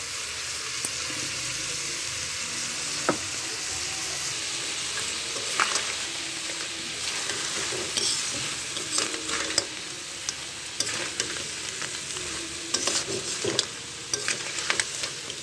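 Ground spice paste and torn green chillies sauté in a pan for a crab curry, with a constant sizzle broken by frequent short scraping and clicking stirs.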